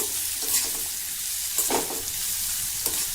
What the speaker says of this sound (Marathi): आता मंद गॅसवर ह्या मिरच्या थोड्या परतून घ्यायच्या आहे